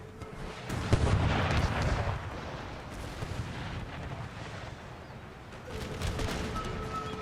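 Volleys of musket and artillery fire boom and crackle continuously through a battle in Empire: Total War, a dense rumbling barrage with sharper bursts near the start and again toward the end.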